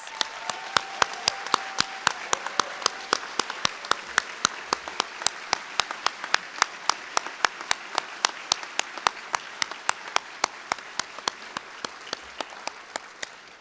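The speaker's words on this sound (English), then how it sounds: "Will you all please stand so we can give you a round of applause?" An audience at a Veterans Day commemoration at the Reagan Library gives a sustained round of applause for veterans, dense clapping with distinct individual claps standing out, steady throughout at moderate loudness.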